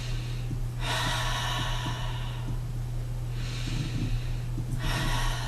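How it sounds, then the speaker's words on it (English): Someone lying down inhales deeply during a stress-relief breathing exercise: three long, airy, close breaths spaced a couple of seconds apart over a steady low hum. "And then you inhale again."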